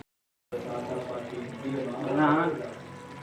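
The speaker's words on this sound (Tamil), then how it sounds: "அப்புறமா தண்ணி ஊற்றி வேக வைக்கணும்." Water is poured into a pan of frying chicken liver gravy, producing a steady close splash and sizzle that builds and swells toward the end after a brief silent start.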